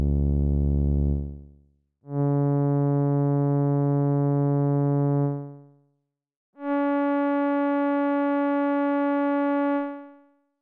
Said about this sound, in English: Now you hear sawtooth wave.